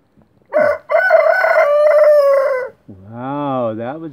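A rooster with feathered feet, perched in a tree, gives a loud, close crow of a few seconds with a rising then long sustained call, followed by a lower, wavering cluck-like vocal.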